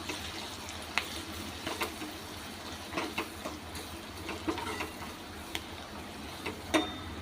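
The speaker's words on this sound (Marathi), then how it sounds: "एक चमचा आपण मसाला घालणार आहोत तर हे छान आपण परतून घेऊया" Spice masala with a spoon of turmeric sautéing in a pan for a matki sprouted moth bean curry, a steady soft sizzle with scattered light clicks and scrapes of stirring, fairly quiet and close, with no talking.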